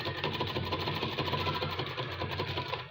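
A sewing machine stitching elastic onto fabric runs in a fast, steady whir with a continuous rhythmic needle clatter, close and loud throughout before trailing off at the end.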